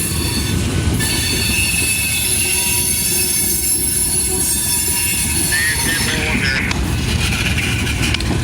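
A train passes a level crossing at Miller station, Ohio, with loud, steady rumbling and high, sustained wheel squeal close by, and the rolling noise runs on without a break.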